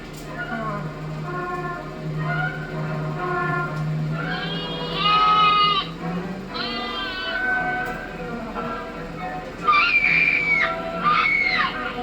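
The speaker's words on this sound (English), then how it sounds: "now we get to see little Bo Peep with her wonderful sheep" Sheep bleat in wavering, quavering calls over a film soundtrack with a low hum and speech-like murmur underneath, the bleats growing louder and higher toward the end.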